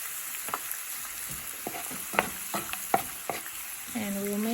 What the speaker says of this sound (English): make the egg as you would scrambled egg